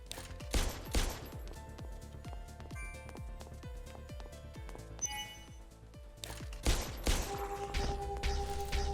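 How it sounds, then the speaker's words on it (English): Rapid bursts of gunfire from the video game Parasite Mutant, a string of sharp evenly spaced shots over a droning game score, louder volleys near the start and the end. "Nope, we're shooting you."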